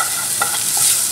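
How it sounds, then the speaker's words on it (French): Melted butter and flour stirred together into a roux in a pan, a continuous close hiss with faint scraping strokes, steady and alone. "je vais le mélanger avec de la farine pour faire un roux"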